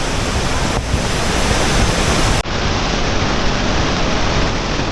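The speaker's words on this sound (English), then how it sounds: "That one is Aling Aling waterfall." Aling Aling waterfall in Lovina, Bali, roars as a steady, loud broadband rush of falling water that fills the scene without pause, with no voices over it.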